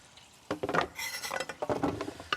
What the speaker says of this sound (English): get a little roasting pan here